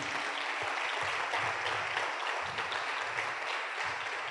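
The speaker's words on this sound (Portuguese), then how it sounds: "Dê uma salva de palmas ao Senhor." Congregation applauding during a Portuguese-language church service: a full, even wash of many hands clapping at once, sustained at a constant level from start to finish with no talk over it.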